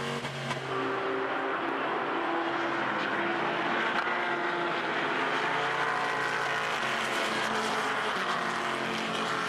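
Race cars roar past at an American Le Mans Series endurance round, the Oak Tree Grand Prix, including a Porsche numbered 27, their loud, sustained engine drone rising and shifting as they accelerate on track.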